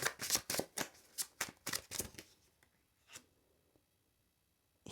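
Tarot cards being shuffled and drawn by hand, a burst of crisp riffling flutters for about two seconds, then a few softer single card slides and taps, close up with no talking.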